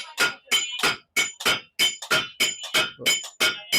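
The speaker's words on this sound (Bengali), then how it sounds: "তখন এই হাতুড়ির বাড়ির তালে তালে এই জিনিসটা একটা হয়ে যায়" Sharp metallic hammer blows on red-hot iron ring out in a steady, quick rhythm, about a dozen strikes close by at a weekly village market, with no talking.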